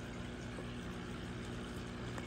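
An aquarium air filter bubbles water over a betta fish's gills during tumor surgery, giving a constant, dense gurgling and rushing hiss, steady and fairly close.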